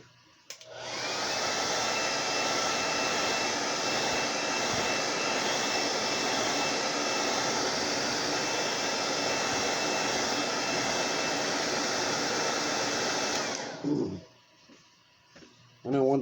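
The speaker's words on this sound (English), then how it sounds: "Now we're going to hit this with the hair dryer real quick." A hair dryer blows steadily at close range on a repainted fishing lure for about thirteen seconds, a loud, even whooshing roar that then cuts off, leaving brief quiet handling noises.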